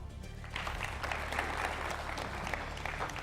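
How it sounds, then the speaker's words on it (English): An audience at a university quiz challenge applauds the evening's scorekeeper, a moderate, even spread of clapping from a room full of people with a low hum underneath. "a round of applause for Bettina"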